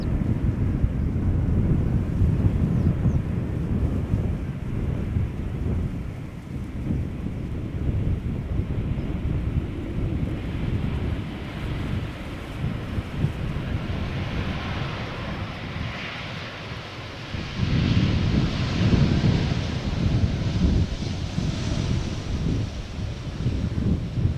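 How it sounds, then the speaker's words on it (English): A KLM Embraer 190 airliner arriving at Schiphol from London City roars past at a distance, a broad, sustained jet rumble that swells and fades over the seconds, with some wind buffeting the microphone. "First one being KLM flight 984 arriving from London City, Embraer 190."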